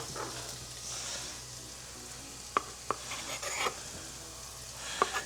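Garlic fries in a pan with a low, steady sizzle, broken by a few sharp stirring clicks and scrapes; quiet and close, with no speech.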